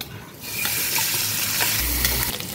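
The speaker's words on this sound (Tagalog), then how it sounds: "Mga kautod, igisa muna natin tong pork mash." Pork mask sizzles loudly in a pan as its fat renders out, giving a steady, close frying hiss with a few stirring clicks; a low hum briefly underneath near the end.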